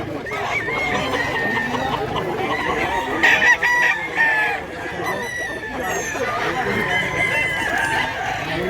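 Dense clucking from a crowd of chickens at a poultry market in Mantalongon, Barili, Cebu, with roosters crowing now and then, loud and continuous, with some background voices.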